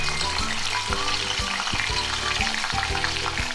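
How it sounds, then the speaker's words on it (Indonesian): Shrimp frying in hot oil for Indonesian butter shrimp, a loud, dense crackling sizzle with repeated low thumps as the pieces are stirred in the pan. "Sekarang kita bisa goreng ya"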